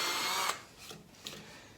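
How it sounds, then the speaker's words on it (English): Power drill boring into MDF for a sawmill blade wheel axle: a loud whirring drill run that cuts off after half a second, then two brief softer bursts. "Just a little tip about drilling MDF."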